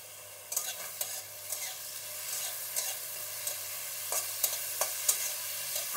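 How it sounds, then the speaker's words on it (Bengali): Whole cumin and spices frying in a little oil, a soft, steady sizzle with regular sharp taps and scrapes of a spoon stirring against the pan, close and fairly quiet. "গোটা জিরে। এগুলো আমি একটু ভেজে নেব।"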